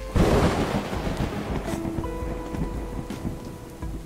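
Thunder and rain in the video game A Hat in Time: a loud rumbling thunderclap opens over steady heavy rainfall, with the downpour continuing under faint tonal game sounds.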